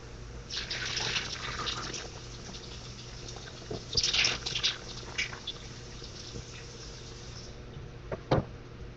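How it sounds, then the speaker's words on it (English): Tap water runs into a kitchen sink as apples are rinsed, a steady soft stream with brief splashy surges and a few drips, fairly quiet and close. "I'm just going to take them to the sink and rinse them."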